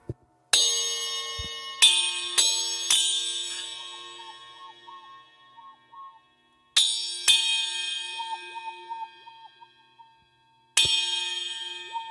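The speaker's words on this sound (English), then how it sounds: "This is my favourite one, using the cup chimes over here." Bright metallic cup chimes are struck in a few clusters, each ringing out and slowly decaying, with clear pauses between groups of strikes.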